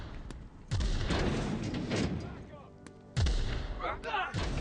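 Video game gunfire from The Outer Worlds cracks out in a couple of heavy booming shots amid a noisy firefight, with voices shouting over the combat.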